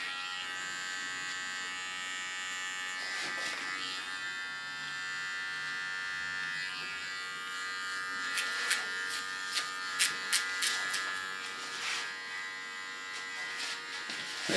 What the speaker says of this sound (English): Clean the contour with my small clipper.